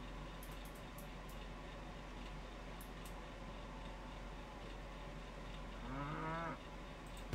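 Cows moo in the Old Market Simulator farming game, with one drawn-out moo rising clearly near the end above a steady low hum of background game ambience.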